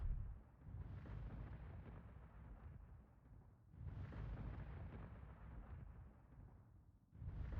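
Heavy booming blasts from an airstrike in a mech combat video game, three separate rumbling detonations spaced a few seconds apart, each swelling loud and then decaying into a low roar, with no talk over them.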